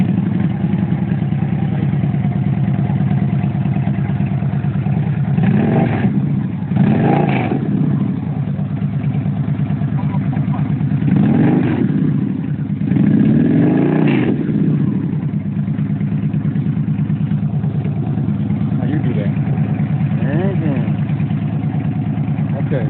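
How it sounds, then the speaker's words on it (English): Engine fitted with Atom Bomb mufflers and a high flow air filter rumbles steadily at idle, then rises in a few short, moderate revs before settling back, recorded close. "Just rev it up a little bit, not hard."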